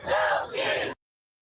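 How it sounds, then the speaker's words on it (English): A protest crowd outside City Hall yells in a brief loud roar that swells twice, then cuts off into silence. "Crowds gathered first outside City Hall to hear speeches"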